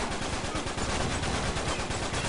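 Rapid automatic gunfire in the video game Uncharted 3, a dense continuous burst of loud shots with no pause, close and harsh throughout.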